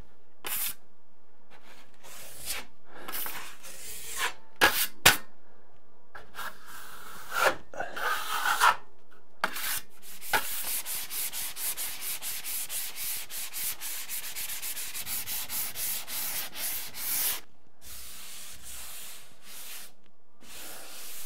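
Drywall joint compound being sanded over a patched hole, with scattered short rubbing strokes at first, then a long stretch of steady, close scratchy sanding.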